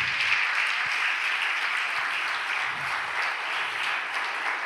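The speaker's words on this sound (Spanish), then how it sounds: "Dele un fuerte aplauso a Jesús." Sustained congregation applause fills a Pentecostal evangelical church, a steady dense wash of many hands clapping at moderate distance with no voices over it.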